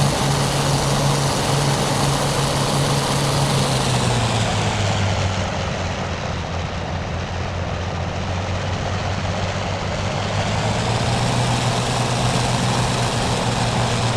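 Airplane engine in a flight simulator game near Raleigh, North Carolina, a steady propeller drone with a low hum that dips slightly in pitch midway, continuous and alone with no voices.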